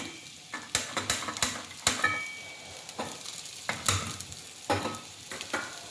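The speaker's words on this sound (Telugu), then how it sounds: "శనగపిండి కలిపిన పౌడర్ మనం కాకరకాయలో పెట్టేసుకుని ఇలా ఫ్రై చేయటం చాలా సింపుల్గా ఉంటుంది" Bitter gourd coated in gram flour powder frying in oil in a pan, a steady sizzle under repeated sharp scrapes and taps of a spatula stirring against the pan.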